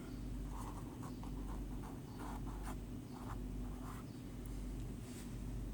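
Pen scratching across paper while Arabic words are written by hand, short strokes in an uneven rhythm, close and faint over a steady low background hum.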